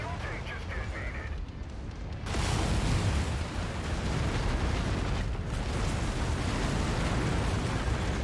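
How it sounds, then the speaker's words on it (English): A fuel tank explodes in the mech combat game MechWarrior 5, a deep rumbling blast bursting in loud and filling the scene with a sustained roaring boom that keeps rolling to the end, with faint talk beforehand. "Fuel tank just detonated."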